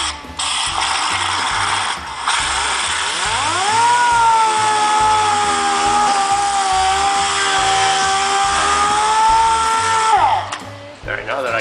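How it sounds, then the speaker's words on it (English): A DA sander working over urethane 2K primer with a 220 disc on a 1940 Chevrolet truck, a steady close whine spinning up, holding for several seconds, then winding down. "Just the old DA sander here."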